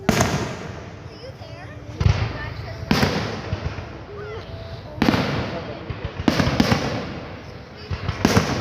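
Fourth of July fireworks going off outdoors, sharp booming bursts every second or so with crackling tails between them, loud and close, with people talking in the background.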